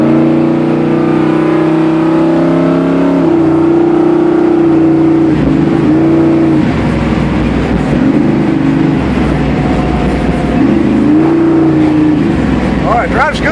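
A 1971 Chevrolet Camaro Z28 engine runs loud and close, its revs rising and falling in steady surges as the muscle car drives.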